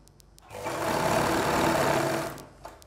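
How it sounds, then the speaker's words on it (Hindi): A sewing machine stitches a straight seam along the crotch of a pair of women's pants, running steadily for about two seconds between short pauses, with a close, even mechanical whir. "इसको यहाँ तक सिलाई लगाते हुए लेके आएंगे"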